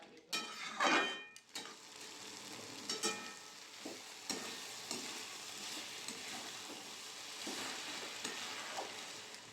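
Cabbage and potato curry simmers in a pan with a little water, giving a quiet sizzle under sharp clinks and scrapes of a utensil stirring against the pan, loudest in the first two seconds.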